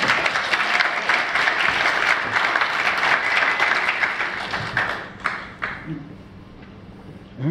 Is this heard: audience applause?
yes